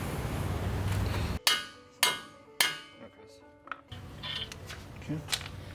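Hammer blows on a nut left on a truck CV axle during a Titan axle swap on a 2023 Nissan Frontier Pro-4x, three loud, sharp metallic strikes roughly half a second apart and a lighter tap, with shop noise before and after.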